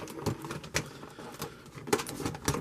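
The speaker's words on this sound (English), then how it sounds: "cut this open a bit" A blade slices open the plastic packaging of a NECA Shin Godzilla action figure, making a series of close, quiet scraping and crinkling strokes in an irregular rhythm.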